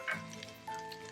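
Onions sauté in a pan on medium heat, a faint, close sizzle with a soft crackle at the start and a brief louder burst partway through, steady and quiet with no voices.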